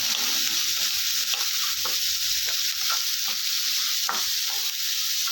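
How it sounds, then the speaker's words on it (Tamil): Onion, green chili and curry leaves sautéing in oil for a goat blood fry make a loud, steady sizzle, with occasional stirring scrapes close by. "வெங்காயம் பச்சை மிளகா கருவேப்பிலையை சேர்த்துக்கலாம் சேர்த்துட்டு நல்லா வதக்கி விட்டுருங்க"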